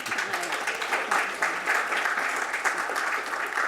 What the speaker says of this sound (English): join me in giving another round of applause to the four great panelists here for that